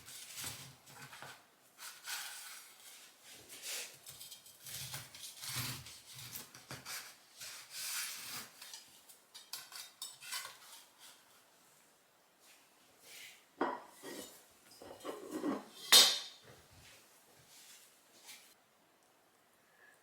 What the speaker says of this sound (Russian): И давайте я сейчас отрежу кусок, и вы посмотрите, какой пирог получился в разрезе.